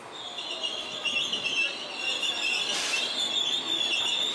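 Train at Monastir railway station in Tunisia: a steady, moderately loud rumble with a sustained high wheel squeal and a brief brighter screech midway, no talk.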